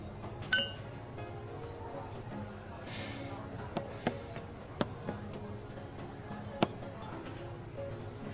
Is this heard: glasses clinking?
yes